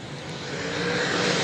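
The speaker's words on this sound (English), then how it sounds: "And we are off and racing to the top corner." Super sedan race cars roaring off the start at Gympie Speedway, a dense broadband engine drone that swells steadily louder as the pack accelerates toward the top corner, with no voices.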